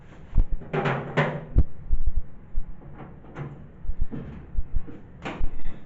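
The door of a 1966 Ford Mustang under restoration is worked open with several clunks and rattling creaks, in uneven bursts separated by short pauses.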